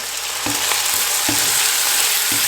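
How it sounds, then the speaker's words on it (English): Onions fry in a pot of oil for a lamb thukpa soup, a steady broadband sizzle with three clear knocks of tomato going in or a spoon striking the pot, close and alone with no talk. "I just cook onion here literally 5 to 6 minutes. It's done, and now I'm going to add this tomato."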